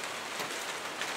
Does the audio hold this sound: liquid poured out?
no